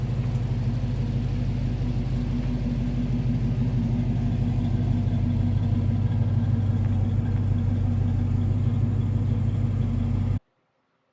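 Engine of a 1964 Chevrolet C10 pickup with EFI running under its own power, a steady mid-pitched rumble close by for about ten seconds before cutting off abruptly.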